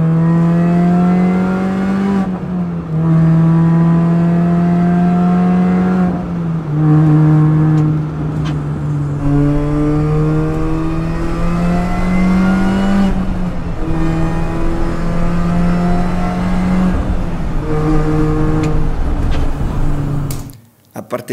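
Mini Cooper S R53 engine revving and accelerating in repeated loud pulls, each rising in pitch before dropping with gear changes, the supercharged whine prominent and close until a sudden cutoff at the end.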